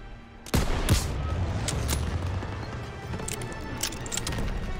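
Gunfire in Call of Duty WWII, with sharp shots near the start and then a sustained, dense barrage of rifle and machine-gun fire mixed with crashes throughout.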